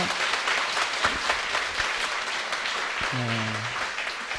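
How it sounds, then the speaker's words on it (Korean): A church congregation applauds warmly, continuous clapping from a large group filling the room, with a short sung or spoken tone rising near the end. "우리 노회장님 서성규 목사님 너무 귀한 말씀 주셨는데 감사드리는 박수 한번 하겠습니다."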